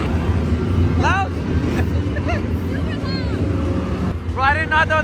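Monster trucks roar at a Monster Jam event as a loud, continuous engine rumble beneath crowd babble, with bursts of shrill cheering and whistles rising over the noise.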